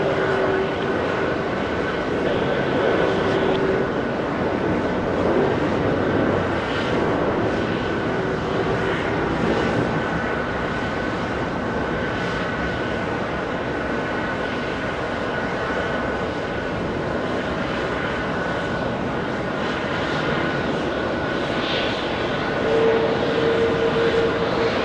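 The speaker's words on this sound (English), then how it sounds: "Jetblue 1019 heading to the Motor City, heading to Detroit, Michigan." A JetBlue airliner, flight 1019, departs JFK for Detroit, a continuous jet engine roar that stays fairly even and mid-distance throughout, with little talking.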